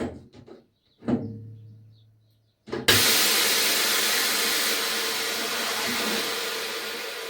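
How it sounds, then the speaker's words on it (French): A tyre changer's pedal clamps the wheel rim. A couple of sharp knocks and a clunk come first, then a loud, steady pneumatic hiss runs on without a break. "activer le serrage"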